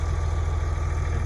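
A farm tractor idles close by with a steady, throbbing low rumble and constant mechanical vibration, no voices over it.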